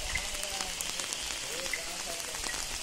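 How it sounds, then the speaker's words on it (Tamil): Heavy rain pours steadily at a cardamom estate in Idukki, a dense close hiss of drops pattering on surfaces with faint voices underneath. "மழை ஓவராக இருக்குது"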